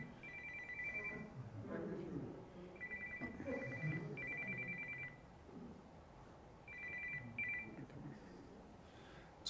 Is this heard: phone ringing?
yes